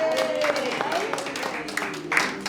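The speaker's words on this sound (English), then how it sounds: "shall we give them a round of applause for coming here?" A room applauds visiting schoolchildren from St Helens School in Swansea at a dementia-focused gathering: brisk, dense clapping holds steady for the whole stretch, mixed with voices chattering over it.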